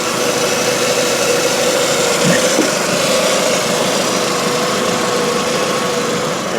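A 2001 VW Jetta GLS with a 20-valve 1.8 liter turbo engine idles steadily, a smooth even hum with a faint whine, recorded close and constant for several seconds with no talk.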